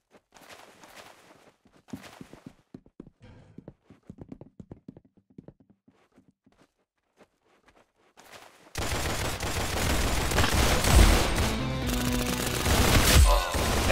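Gunfire in the Roblox Arsenal video game: sparse rapid shots and clicks at first, then a loud dense burst of continuous firing and game noise in the final seconds.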